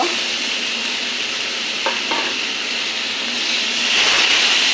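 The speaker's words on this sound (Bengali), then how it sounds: "পটলটা মশলার সঙ্গে ভালো করে মিশে নিই" Fried pointed gourd being stirred into spice masala in a pan makes a loud, continuous sizzle with a couple of brief spoon clinks and scrapes, the frying hiss swelling slightly toward the end.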